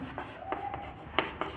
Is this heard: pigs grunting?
no